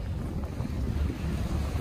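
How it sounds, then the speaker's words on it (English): Blustery wind rushes against the microphone with a low rumble, steady and loud for the whole short stretch, at the seaside in Tarifa, Spain. "It's windy."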